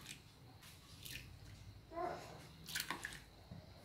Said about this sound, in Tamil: இந்த டைம் வந்து நாம் ஏற்கனவே ஊற வச்சு வச்சுருக்கிற அந்த ஜவ்வரிசியை வந்து கழுவி இதில் சேர்த்துக்கலாம்